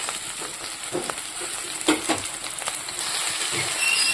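Taro pieces sizzling and frying in hot oil in a pan, a steady crackle with occasional louder spits and scraping stirs.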